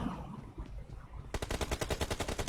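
Rapid automatic gunfire in a shooter video game bursts in after a quieter stretch, a fast, even machine-gun rattle of many shots continuing to the end.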